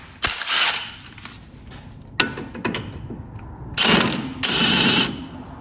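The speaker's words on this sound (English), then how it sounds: "So I'm just gonna grab my impact here. Torque her down good." Impact wrench tightening a 21 mm strut bolt on a Mercedes C300 front suspension, firing in several loud, close mechanical bursts separated by short gaps of quieter ratcheting and clatter.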